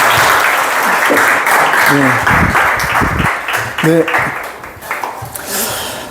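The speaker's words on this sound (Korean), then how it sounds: "김규나 작가님에게 다시 한번 큰 격려의 박수 한번 드려드리겠습니다" Audience applause after a literary lecture at a book concert, a dense, loud wash of clapping that swells and then thins out, with a voice briefly speaking over it.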